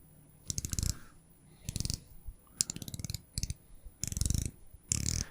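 Bezel of a Yema Navygraf Heritage watch being turned, giving short bursts of fine, rapid ratchet clicks separated by pauses, close and quiet.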